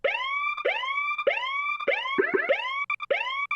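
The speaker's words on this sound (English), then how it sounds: "We actually introduce this police siren that's been kind of warped to time out to the beat." A police siren chopped into rhythmic, pitch-bending wails that swoop up repeatedly in a steady beat, loud and close.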